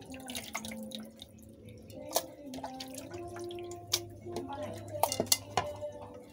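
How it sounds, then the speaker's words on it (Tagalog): Washing water drains out of a cooking pot in a home kitchen during adobo-with-egg preparation, heard as scattered drips and splashes with sharp metallic clinks and knocks of the pot, moderately close, no speech. "alisin yung tubig para malinis."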